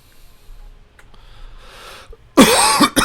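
One person coughs loudly a few times near the end, following a quiet stretch with faint background noise.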